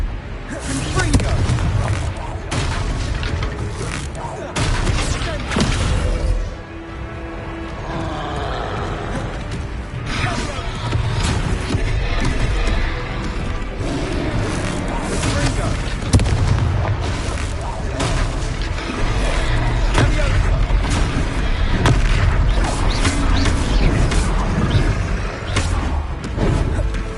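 Repeated Confringo spell blasts in the Hogwarts Legacy game on PS5, loud booming explosions and crashes mixed with dense combat effects and music throughout, with characters talking over the action.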